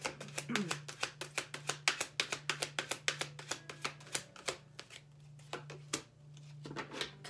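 Tarot cards being shuffled close up, a fast run of crisp, evenly spaced riffling slaps that slows and thins toward the end.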